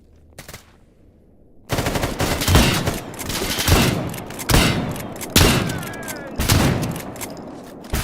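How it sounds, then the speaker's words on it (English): Bursts of automatic gunfire in the game Stalker GAMMA, loud and close, firing in several sustained volleys after a brief quiet start with a couple of isolated shots. "Shot his legs like 5 times and stabbed him twice in the face."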